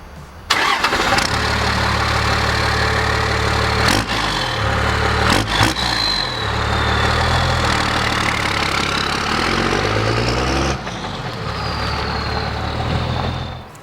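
Cummins diesel engine in a Dodge Ram with its bed swapped out, cranking to life and then idling with a deep, loud exhaust rumble, briefly revved several times before settling back to a steady idle.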